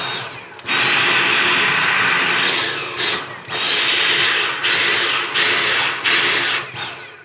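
A Dyson V7 cordless vacuum cleaner runs loud and close on its reduced power mode, a steady whine that cuts out briefly several times before resuming.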